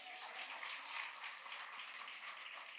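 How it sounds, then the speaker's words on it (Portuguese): A church congregation applauds during a Sunday Easter service, a bright, even wash of many hands clapping that holds steady for about three seconds at moderate distance. "Você pode aplaudir ao Senhor por isso?"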